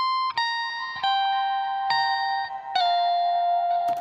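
Octave-up electric guitar lead played through a guitar amp simulator rig: a loud, bright, slightly piercing sustained melody with gliding note changes and a faint distorted edge, each note ringing into the next, with no voices over it.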